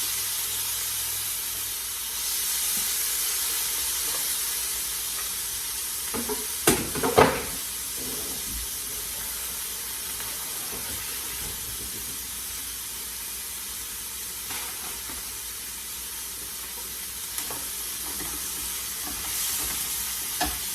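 Steady frying sizzle with occasional scraping and clatter of a utensil stirring onion, mushroom and tomatoes in a pan, close by, no talking.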